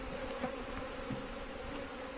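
A dense, steady buzz of many honey bees at a hive, droning continuously and close by with no pauses.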